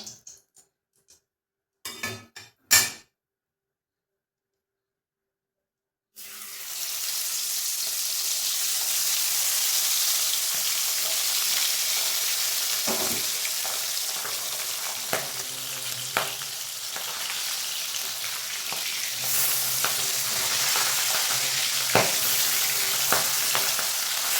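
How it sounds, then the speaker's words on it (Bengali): Steady, loud sizzling of pabda fish frying in mustard oil, crackling continuously with occasional pops, after a few sharp knocks and a moment of silence. "এবার এর মধ্যে এক একে মাছগুলো দিয়ে ভেজে নেব"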